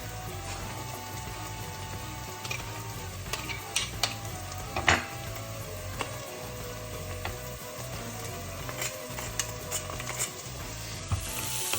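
Coriander stems and crushed garlic sizzle steadily in a pan, a soft continuous frying hiss broken by occasional clinks and stirring scrapes, with no talking.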